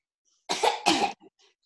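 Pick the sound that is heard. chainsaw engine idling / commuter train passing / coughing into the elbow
coughing into the elbow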